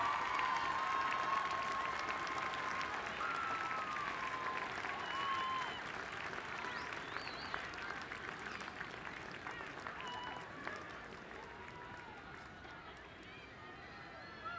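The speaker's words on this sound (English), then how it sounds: "Give them a round of applause because they're part of this process as well." Commencement audience at Ramapo College of New Jersey applauding parents and families, a sustained wash of clapping with a few cheers and voices in it, gradually fading over about fifteen seconds.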